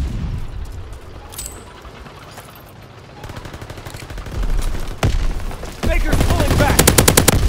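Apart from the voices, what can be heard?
gunfire and machine gun fire in Call of Duty WWII video game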